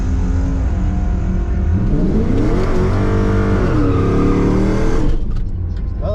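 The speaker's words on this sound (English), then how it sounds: "Well, that burnout sucked." A drag race car does a burnout, its loud close engine rising in pitch under roaring tire spin, then cutting out abruptly near the end.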